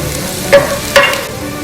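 Cumin seeds hit hot oil while making samosa filling, giving a short loud sizzle with two sharp scraping bursts close to the mic.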